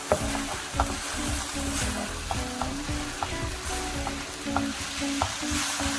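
Parsley and oregano being stirred into a sizzling pan mixture with mushrooms, a constant close frying hiss under repeated scraping strokes and light taps of a utensil against the pan.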